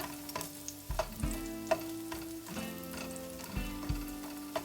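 Garlic sizzles in a pan for shrimp curry while a utensil stirs it, giving steady frying crackle broken by several sharp scraping clinks against the pan, close and quiet with no talk.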